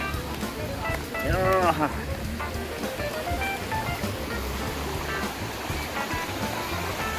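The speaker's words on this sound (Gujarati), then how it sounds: "તો ઠંડુ ઠંડુ પાણી આવે છે" Steady rushing cold water flows throughout, like a stream, at Bhavnath in Junagadh, with a voice briefly rising over it near the start.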